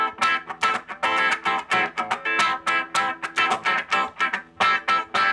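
Electric guitar played through a wah pedal rocked fully down, giving a narrow, nasal, boxy tone; a steady run of choppy strummed chords in quick rhythmic bursts, close and moderately loud.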